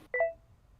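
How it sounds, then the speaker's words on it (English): A short electronic beep: two quick tones sound once and fade fast against quiet background noise. "I've got beeping going on in my ears"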